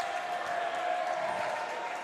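Basketball crowd at a high school game between Grand Blanc and Orchard Lake St. Mary's, the road Bobcats fans cheering and applauding in a steady, dense roar that holds evenly throughout without a break.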